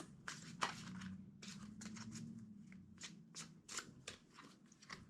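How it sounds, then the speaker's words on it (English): A deck of cards is shuffled by hand in several quick riffling bursts, crisp and close but quiet, separated by brief pauses and soft handling noises. "Two more shuffles."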